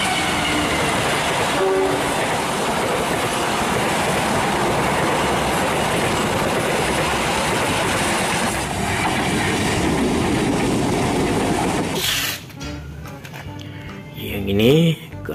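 Toy CC206 locomotive model running along its track, a steady loud rolling rumble with clattering wheels for about twelve seconds, then abruptly quieter with a brief rising whine near the end.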